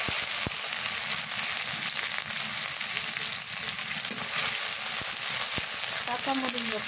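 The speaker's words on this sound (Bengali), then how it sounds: "পেঁয়াজ ভাজা হয়ে গেছে, এবার দিয়ে দিই পেঁয়াজ বাটা" Onion and garlic paste frying in hot oil gives a continuous close sizzle with a few stirring clicks, while ground onion is added to a dish of fresh snakehead fish and sweet pumpkin.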